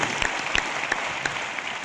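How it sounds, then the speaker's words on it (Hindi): An audience claps for a man named Tiwari, a short burst of dense, lively applause from a room of people, fairly close, with no speech over it. "तिवारी जी के लिए तालियां होनी चाहिए जोरदार।"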